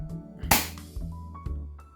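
A single sharp crack from a spring-powered airsoft pistol fired during a chronograph velocity test, followed by lighter clicks and faint mechanical knocks.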